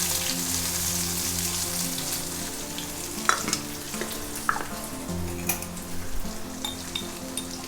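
Mustard seeds, urad dal, cumin and shallots tempering in hot oil crackle and sizzle steadily, with scattered sharp pops and stirring taps, moderately loud and close, with no one speaking.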